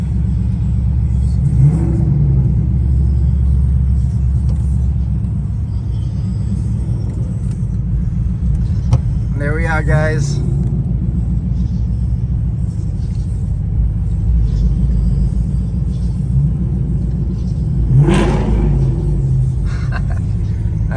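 A Ford Mustang GT rumbles at idle with a deep, steady burble, punctuated by a couple of short revs; someone speaks briefly over it.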